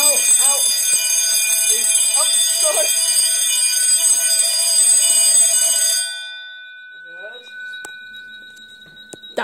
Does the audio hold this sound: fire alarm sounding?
yes